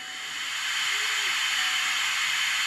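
A Mantua 4-4-0 Rock Island & Peoria model steam locomotive fitted with a DCC Tsunami sound decoder gives off a steady, close, bright hiss that swells slightly and then holds.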